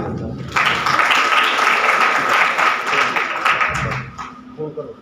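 Seminar attendees at a human rights commission event in Pakistan break into applause that starts abruptly, holds steady, then fades, with talk audible beneath and after the clapping.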